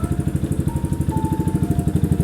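A 2019 GPX Legend 200 cafe-style motorcycle engine idles and revs steadily with a fast, even putter, close up and loud, with no talking.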